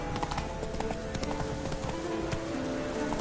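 Horse hooves galloping in the video game The Witcher 3: The Wild Hunt, a fast, steady clip-clop rhythm, loud and continuous throughout.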